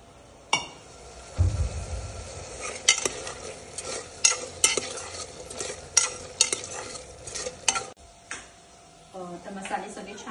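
Mixed vegetables and masala stir-fried in a pan, with repeated scraping strokes and clinks of a spatula over a low sizzle, while a voice talks at times.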